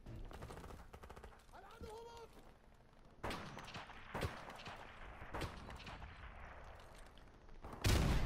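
Gunfire in Modern Warfare Remastered multiplayer: several sharp, separate shots ring out, spaced apart and fairly quiet, with a player talking in between.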